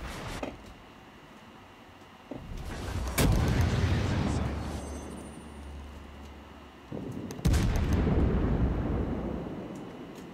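Naval guns booming in World of Warships, with two heavy broadside volleys a few seconds apart, each a loud low blast trailing into a long rumbling roar over steady ocean ambience; a voice speaks briefly in the background.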